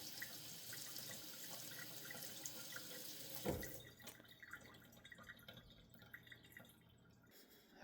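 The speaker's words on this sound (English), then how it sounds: "I went ahead and washed all the" A kitchen sink tap runs while stainless steel water bottles are rinsed, a steady splashing flow with drips that thins out after a clunk midway, close and fairly quiet with no talking.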